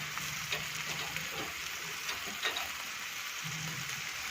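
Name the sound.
sev parvar curry cooking in pan with spices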